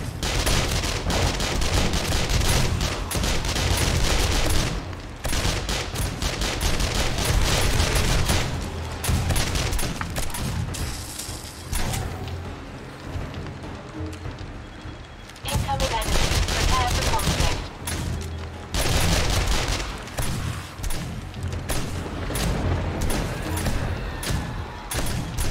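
Automatic electric turret in the survival game 7 Days to Die firing in long, rapid bursts, dense rattling gunfire with booms, loud and near, pausing briefly before resuming, with occasional speech beneath.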